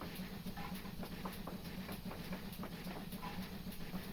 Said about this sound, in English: The uphill is really murdering this train.